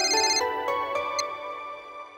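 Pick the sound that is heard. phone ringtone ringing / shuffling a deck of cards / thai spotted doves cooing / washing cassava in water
phone ringtone ringing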